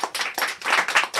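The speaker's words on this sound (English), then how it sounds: "Clap it up, clap it up, clap it up." Several audience members clap in unison to a steady beat, about six crisp bursts close by with no voices over them.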